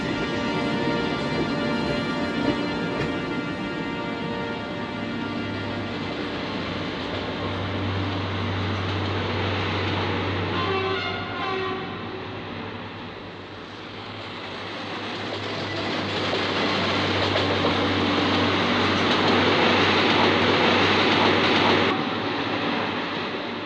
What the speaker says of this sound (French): Ce train qui ne circule qu'en juillet et août est aussi lui venu prendre des vacances en Normandie